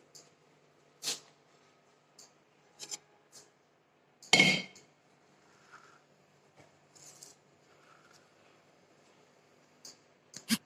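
A sharp metallic clatter of a lid set onto a pot stands out among scattered light clinks and taps of kitchenware in a quiet room.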